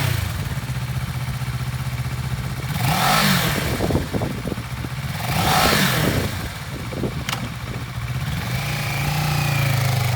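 A used 2015 Kawasaki Ninja 650 sport twin motorcycle idles steadily, then its engine revs up twice in smooth rising-and-falling swells before settling back to a close, even idle, with no talking.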